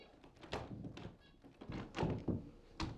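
Heavy fists pound on a closed door in a dramatic short film, a handful of loud, irregular thuds spread over a few seconds.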